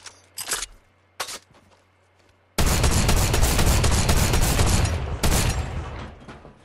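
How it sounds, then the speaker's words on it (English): A drum shotgun in Fortnite fires at a wooden wall in the game: a few separate blasts, then a long, loud, rapid burst of continuous shots with a short break near the end. "let's see how many shots does it take for one wood to go down"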